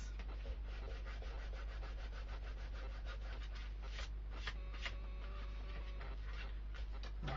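A finger rubs across paper to spread glue on a handmade mini brag book, giving a steady, close scratchy rubbing in repeated short strokes with no talking.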